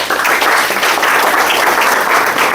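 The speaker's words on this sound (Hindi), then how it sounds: "तो एक बार खुद के लिए जोरदार ताली।" An audience at a direct selling seminar breaks into sustained, loud applause, a dense wash of many hands clapping close by that holds steady throughout.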